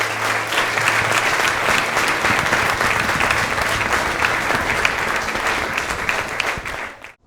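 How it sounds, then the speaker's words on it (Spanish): A congregation at a church service gives a strong round of applause. The clapping is full and steady for about seven seconds, then cuts off quickly at the end. "¿Le quieres dar un fuerte aplauso más a Cristo?"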